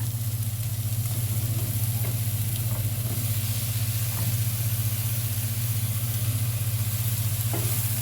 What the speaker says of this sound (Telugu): ఈ మసాలాలన్నీ 1 నిమిషం ఫ్రై అయినాక ఇప్పుడు మనం రొయ్యలు వేసుకుందామండి